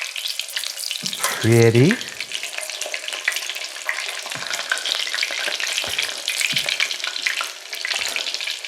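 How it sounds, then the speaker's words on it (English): Breaded pork cutlets for Italian pork Milanese fry in a pan with a steady, loud sizzle. A short clatter comes early, and one brief spoken word is heard. "Now I'm just going to let these fry on the second side."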